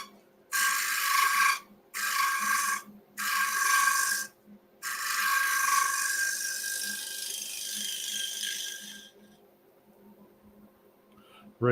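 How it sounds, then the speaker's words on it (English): A shear or negative rake scraper cuts wood spinning on a woodturning lathe, giving loud bursts of close, hissing, scraping cutting in four passes, then a longer stroke that fades out over a steady motor hum. "You could do this with your shear scraper, or your negative rake scraper."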